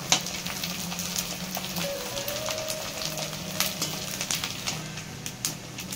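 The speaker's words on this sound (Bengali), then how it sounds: "তেলটা গরম হয়ে গেছে, এবার আমি এগুলো দিয়ে দেবো। দেখুন কত সুন্দর ফুলছে।" Gobindobhog rice pakoras frying in hot oil, a steady dense crackle and sizzle with scattered sharper pops throughout, close and moderately loud.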